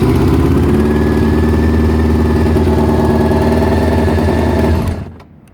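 A Honda CBR 600 motorcycle engine runs loud and close with a steady, rough idle, then cuts off and fades to near silence at the end.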